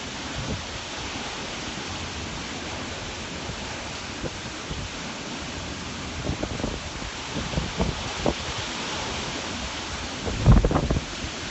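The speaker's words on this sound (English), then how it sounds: "I can hear some thunder now and the winds are strengthening." Hurricane Maria passes over Martinique with a steady roar of strengthening wind and rain. Low rumbles of thunder build toward the end, ending in one louder close burst.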